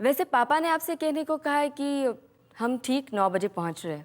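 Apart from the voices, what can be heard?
No everyday noise stands out behind the speech.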